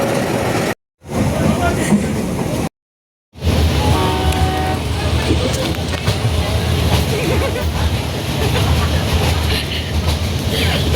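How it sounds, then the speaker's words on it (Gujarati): Loud, continuous rumble of a train rolling close by, broken by two brief moments of silence near the start. "ટ્રેન આવી ગઈ"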